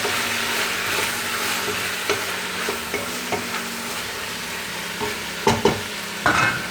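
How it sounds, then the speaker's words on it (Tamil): Tomatoes sautéing in a pan of soya biryani base, a continuous loud sizzle with scattered spoon stirs and a few sharper clinks toward the end. "இந்த தக்காளி ஒரு 2 நிமிஷம் அது வதங்கட்டங்க."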